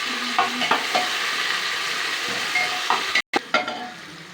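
Tomatoes and onions sautéing in a cooker pot for Ambur biryani give a continuous frying sizzle with occasional stirring clinks and a short break near the end; no talking.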